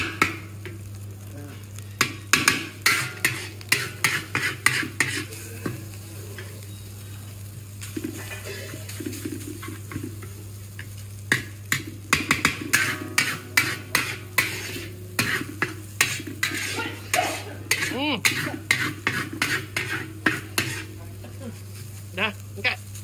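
Cake mixture stirred in a pot with a utensil, giving a series of sharp scraping clicks and knocks in irregular bursts over a low steady hum, while people chat nearby.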